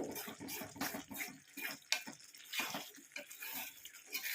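An amla (Indian gooseberry) hair dye mixture bubbles and gurgles in a pan, with irregular popping and soft splashy bursts at close range, no talking.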